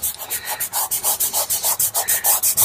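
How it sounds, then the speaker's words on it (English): Rhythmic back-and-forth rubbing of pastel pencil colour into paper while working sky base colours, a steady series of close, dry, papery strokes with no voices. "Let's just rub that in."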